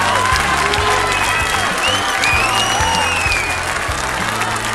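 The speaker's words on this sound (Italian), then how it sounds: "glielo rifacciamo un altro applauso forte" Loud, steady applause from an outdoor crowd in a town square at a touring music festival show in Verona, continuous clapping with scattered cheers and whistles throughout.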